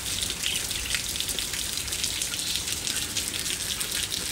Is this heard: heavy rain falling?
yes